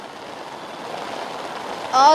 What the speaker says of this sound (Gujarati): આપ જોઈ શકો છો કે અમદાવાદમાં હાલ અનરાધાર વરસાદ વરસી રહ્યો છે